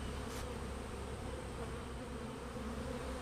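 A swarm of honeybees buzzes around a cage, a steady, dense drone of many wings, continuous and fairly faint, with no talking.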